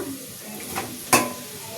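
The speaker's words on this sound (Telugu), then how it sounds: "ఇంకా అందులోనే ఇగో టమాటా కూడా వేస్తున్నా" Tomatoes frying in a spice tempering with onions for a paneer curry give a steady close sizzle, with one sharp louder hiss burst near the middle as they hit the hot oil.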